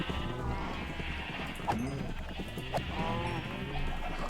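Sheep bleat twice in a video game, short faint cries over a busy bed of game sounds and background noise.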